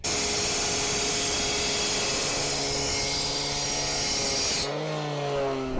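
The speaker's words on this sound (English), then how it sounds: "So right here, some 2x2 angled pieces of steel, 1/4 inch thick. So try a couple cuts on that." A 14-inch CAT diamond rescue blade saw cuts through 1/4-inch thick 2x2 steel angle, giving a loud, steady high-pitched grinding whine that holds for about five seconds, then drops as the blade clears the cut and the motor keeps running.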